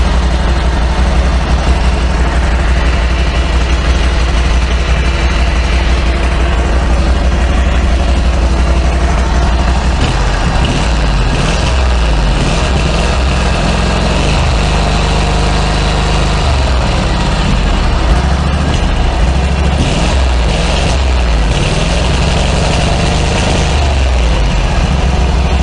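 An old engine pulled out of a long-stored hoard runs and idles loudly and close, with a steady low throb that roughens and lurches midway as it stumbles and picks up again.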